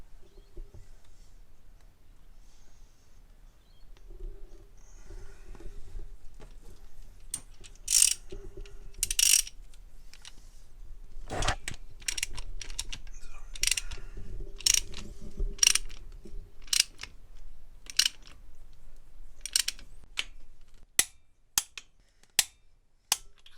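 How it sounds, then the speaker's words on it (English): Allen key tightening a roller rocker lock nut on a Chevy 454 V8 in a Holden HT GTS Monaro, giving soft ratcheting mechanical clicks that build into a run of sharp, evenly spaced ticks near the end, close up with no talking. "he's locking it up with that Allen key that goes through the centre of it"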